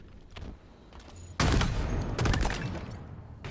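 Gunfire in a competitive video game match starts as quiet scattered shots and then breaks into loud, dense bursts of rapid fire that carry on to the end.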